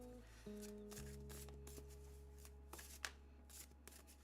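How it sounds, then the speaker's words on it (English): Tarot cards are shuffled by hand in quick, soft riffling bursts and light taps, faint and close, over a steady low electrical hum. "Shuffle those cards any harder and they'll set on fire."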